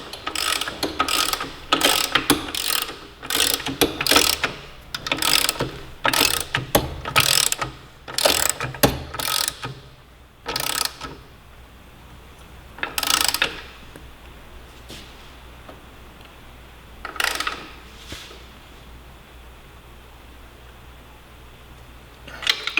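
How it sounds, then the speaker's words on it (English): Ratchet wrench torquing the rear shock fasteners on a Yamaha R3 sportbike, a close, loud series of rapid clicking bursts in quick succession, then a few sparser strokes separated by quiet pauses. "I'm going to go ahead and torque down the bottom first."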